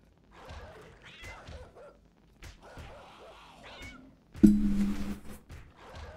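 A cat meows several times within a game mod, with mid-level calls scattered across the stretch and a louder burst near the end over faint background sound.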